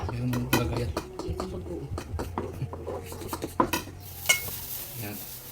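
Garlic and onion are stirred in a metal pan with a utensil, producing irregular close clanks, scrapes and taps over a faint sizzle.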